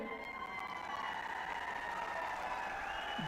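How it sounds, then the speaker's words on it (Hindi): Audience applause at an outdoor political rally in Mahendragarh, Haryana, a steady wash of crowd clapping that holds evenly, with faint voices mixed in. "अभी आपने जल्दी ताली बजा दी"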